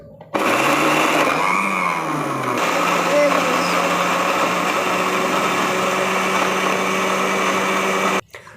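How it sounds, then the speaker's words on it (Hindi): An electric grinder whirs through whole spices for garam masala, a loud steady motor drone that starts abruptly, runs about eight seconds and cuts off, with a voice heard briefly near the start. "तो हम इसको मशीन में ऐड कर देंगे। देखो, हम इसको ग्राइंड कर लेंगे।"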